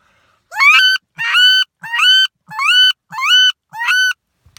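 Six sharp, high-pitched squealing bursts from a duck call, evenly spaced and loud, each a short rising honk with a faint thump between.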